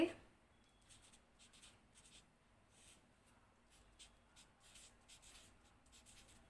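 Pen writing on paper, heard as faint, close scratchy strokes in short repeated bursts against a quiet background.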